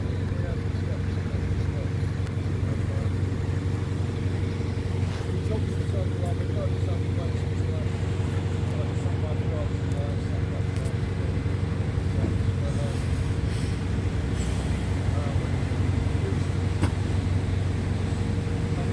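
An Alexander Dennis E400 Trident bus, fleet number T227 and registration LJ61CFX, runs on a DLR replacement service to Canary Wharf. Its engine drones steadily and evenly throughout, with faint muffled voices in the background.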